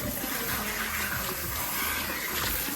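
Water running continuously during a hair rinse at a salon, a steady close gushing spray that fills the whole short stretch with no talking over it.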